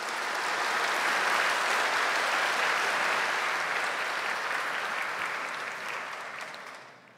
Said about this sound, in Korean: 이제 임광 목사님 나오실 때에 동안의 박수로 환영하시겠습니다.